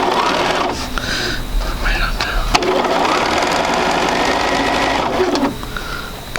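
Sewing machine stitching a quarter-inch quilt seam runs in a continuous, close, loud mechanical hum for several seconds, with brief clatter and fabric handling at the start and end.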